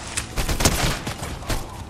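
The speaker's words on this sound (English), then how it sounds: "You're getting sniped at." Sniper shots in a battle royale video game, a few sharp cracks over a dense, noisy game background, fairly loud and close across two seconds.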